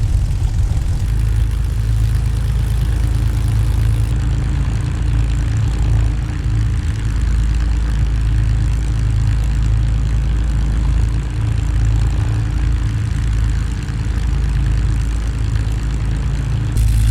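A P-51D Mustang engine from the Echo 19 sound pack in a flight simulator drones loudly and steadily with a deep, throbbing propeller roar that holds for the whole stretch with no speech.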